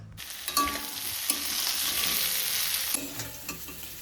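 Gobindobhog rice being fried with hilsa fish for muri ghonto, a steady close sizzle with scraping stir strokes and clinks of a spatula against the pan, no talking.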